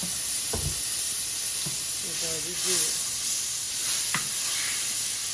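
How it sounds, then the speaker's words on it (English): Butter sizzles in a hot pot used for Cajun salmon pasta sauce, a steady close hiss with a few clanks of a utensil against the pot. "we're just gonna add some butter to this, to that same pot"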